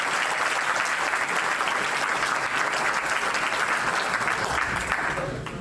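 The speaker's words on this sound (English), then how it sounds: "we'll give you a short round of applause" An audience at a political forum in Boca Raton gives a VIP guest a round of applause, even and loud clapping that runs several seconds before tapering off at the end, with no speech.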